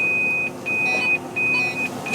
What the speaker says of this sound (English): The spreader's just beeping to tell me there's 200 kilos there.